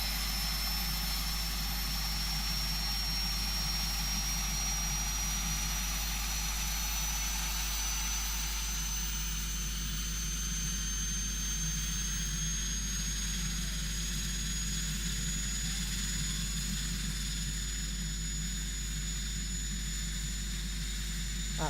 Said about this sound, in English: Sounds like a proper turboprop.